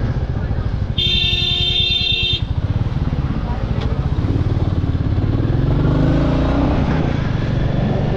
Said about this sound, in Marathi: ट्रॉफिक लागले आपल्याला, बघू शकता तुम्ही.